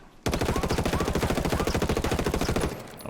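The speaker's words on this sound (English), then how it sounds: "Now let's try the hip fire." An SC-4000 rifle fired from the hip in Ghost Recon Wildlands: one long, loud, evenly paced automatic burst of roughly thirty rapid shots, alone without talk.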